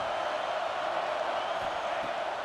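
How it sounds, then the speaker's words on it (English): A home stadium crowd in EA Sports College Football 26 roars in a steady, dense wash of cheering and shouting that holds at an even, loud level throughout, with no distinct voice standing out. "This crowd bringing the energy and noise early."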